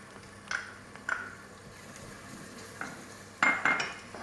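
Spoon clinks against a pot as a ginger and garlic mix goes into tomato stew cooking down, a few faint scattered taps and scrapes over a low background hum.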